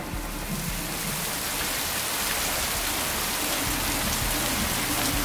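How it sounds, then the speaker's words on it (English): Steady rain pours down, a dense even hiss of drops on surfaces, continuous and fairly loud with no voices. "Now let's just listen to some rain sounds together."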